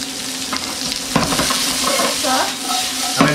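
Onions hit hot seasoned oil in a pan for Chinese chicken curry, giving a steady close sizzle with light stirring scrapes throughout, no voices.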